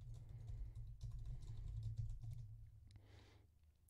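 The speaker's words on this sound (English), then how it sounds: "Let's tap in my password." A password is typed on a computer keyboard for an Ubuntu server login, heard as a quiet, rapid patter of close key taps over a low background hum that fades toward the end.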